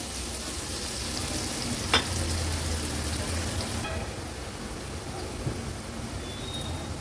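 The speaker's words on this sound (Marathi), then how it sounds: "कांदा पण तेलामध्ये छान परतून घेते व्यवस्थित शिजवून घेऊया" Chopped onion frying in oil in a pan, a continuous loud sizzle with a faint stirring clink partway through, the hiss easing slightly toward the end.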